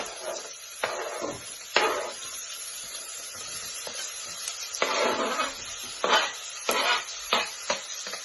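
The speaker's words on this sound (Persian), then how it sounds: "حالا یه مقدار روغن میریزم توش. و پیازا رو بهش اضافه میکنم." Onions hit hot oil in a pot with meat, giving a steady near sizzle and hiss with several bursts of stirring and spattering.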